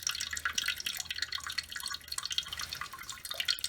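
Water draining and dripping from a copper pipe, a continuous faint trickle with scattered drips, close and quiet.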